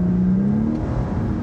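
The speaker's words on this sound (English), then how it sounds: "If I punch the throttle," A 2018 Lexus LS 500 Sport in Sport Plus mode revs as the throttle is punched, a loud, close, steady engine drone that climbs in pitch and then holds, heard from inside the car without talk.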